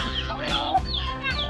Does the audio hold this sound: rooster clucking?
yes